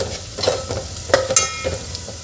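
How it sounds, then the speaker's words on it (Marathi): Ground goda masala spices sautéed in a pan for Maharashtrian masale bhat: a spoon scrapes and stirs in several quick uneven strokes over a low frying hiss, close and fairly loud. "इथे आपण हे मसाले 1 मिनिट परतून घेतलेले आहे"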